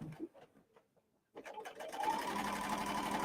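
A serger fitted with a cording foot stitches fabric, starting after a brief pause and then running fast and steady in a continuous whir, preceded by a few soft handling sounds.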